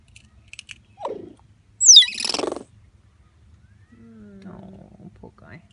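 A pet budgie chirps and squawks up close in short separate bursts, with a rising chirp, a loud harsh squawk, then softer warbling chatter.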